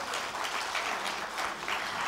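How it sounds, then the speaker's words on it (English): Audience applause at the inauguration of an international conference on resilient infrastructure, a steady dense wash of many hands clapping that continues evenly for the whole stretch, moderately loud with no talking over it. "Everyone give him a round of applause."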